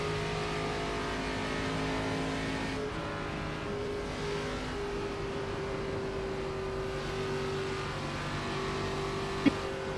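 Race car engines drone steadily on the oval at Michigan during an ARCA or IndyCar event, a continuous close in-car engine tone with shifting pitch and a brief sharp click near the end.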